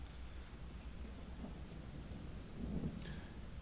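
Steady rain with rolling thunder on a night scene in the video game Persona 4 Golden, a continuous wash of rainfall with a low rumble swelling near the end, no voices.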